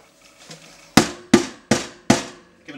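A film developing tank being knocked on a hard surface, four sharp, evenly spaced thumps about a third of a second apart, loud and close, with softer handling sounds before and after.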